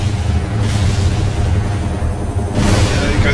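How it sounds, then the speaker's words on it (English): Explosions in the military video game Arma 2, a loud continuous rumbling roar of blasts with deep booming low end and bursts of noise, filling the whole moment without talk. "more explosions"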